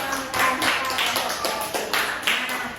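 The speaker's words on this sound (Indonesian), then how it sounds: "kita beri tepuk tangan sekali lagi" A few people clapping in an elementary school classroom, sparse separate hand claps in an uneven rhythm, close and fairly loud rather than a full crowd.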